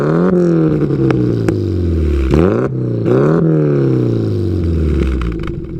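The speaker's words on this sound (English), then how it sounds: "So let's go ahead and take it for a drive" A 1980 right-hand-drive classic Mini with a manual gearbox pulls away, its small engine revving loud and close, pitch climbing and dropping through a couple of gear changes.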